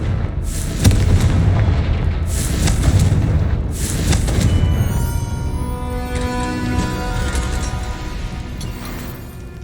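A Confringo blasting spell detonates in Hogwarts Legacy gameplay, three heavy booming explosions in quick succession followed by a ringing, crackling magical tail that fades out over several seconds.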